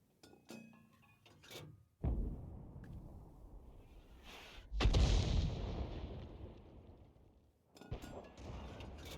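Long-range artillery fire from a 105 leFH18B2 howitzer in a tank video game: two heavy booming shots, each a sharp blast trailing off into a rumbling decay, with clicky game interface sounds before and after.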